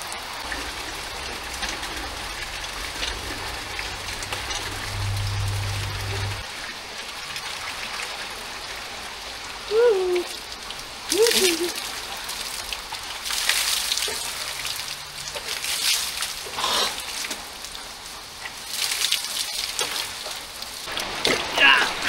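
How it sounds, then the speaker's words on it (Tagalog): Water streams and splashes steadily, like hair being rinsed under running water, with heavier spattering bursts partway through. "Nagbabanlaw na po tayo sa aking ulo."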